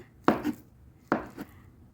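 Knife cutting through banana on a board for a fruit salad, two distinct soft chops about a second apart, close and fairly quiet with no voices.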